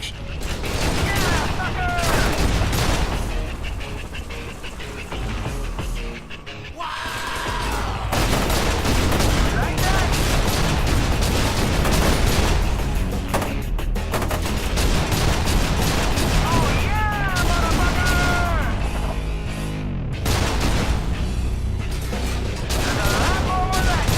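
A mounted turret fires in FEAR 2 during a firefight: rapid mechanical gunfire bursts with clanking, ratcheting machinery, heard over loud music and battle noise, with a brief lull partway through.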